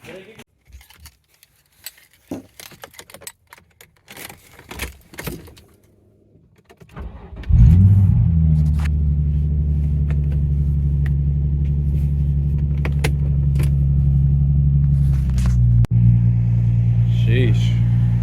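A Honda Jazz engine cranks and catches about midway, then settles into a steady, loud idle rumble close by, after earlier rustling, clicks and key jingles.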